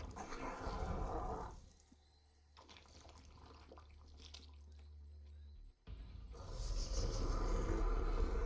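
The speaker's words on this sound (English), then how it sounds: "Oh my god, that dog's going crazy." A dog barks and yelps excitedly, fairly faint, amid background noise that drops to a low hum in the middle before rising again.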